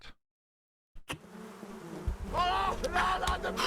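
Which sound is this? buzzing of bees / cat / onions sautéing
buzzing of bees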